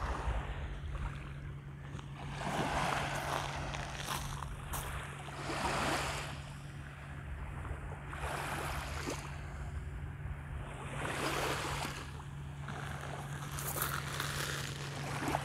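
Waves washing onto a Caucasus beach, a steady wash of surf rising and falling every few seconds, with a low constant hum beneath, no voices.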